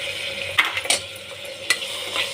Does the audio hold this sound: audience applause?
no